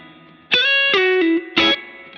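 Electric guitar through Positive Grid BIAS FX 2 with reverb, playing a few distorted notes and chords in close succession, each attack ringing out bright and loud before a short reverb tail fades into quiet.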